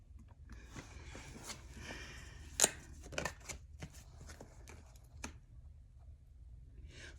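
Playing cards being shuffled, a few crisp riffling and clicking bursts spread over several seconds, close and fairly quiet against a low background hum, with no voices.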